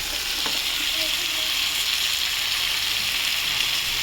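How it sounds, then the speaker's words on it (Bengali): Mustard paste with green chili and ginger paste fries in a pan for a taro-stolon and prawn dish, giving a steady, close, hissing sizzle with faint crackles throughout. "এবার আমি এর মধ্যে সর্ষে বাটাটা দিয়ে দেবো।"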